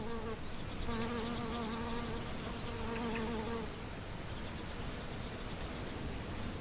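Bees buzz steadily around water hyacinth flowers, a close, continuous droning hum with overlapping insect wingbeats and no voices.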